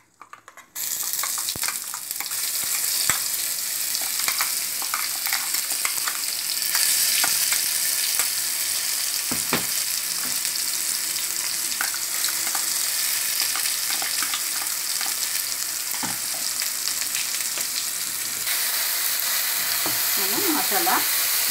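Garam masala with bay leaf, peeled cardamom and cloves sizzles in hot oil for a keema egg biryani. A loud, continuous frying hiss runs almost the entire time, with occasional stirring clicks and no talking.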